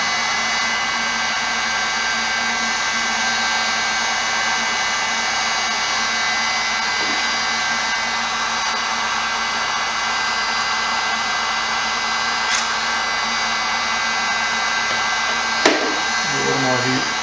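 A hot air blower heats the old key tops on a 130-year-old piano, giving a steady loud whooshing roar with a constant motor hum throughout, plus a couple of faint clicks near the end.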